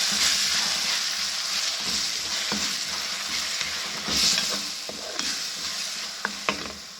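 Tomatoes frying with onion and garlic in a hot pan, a steady close sizzle with occasional clinks and scrapes of stirring, loud and continuous, no talking.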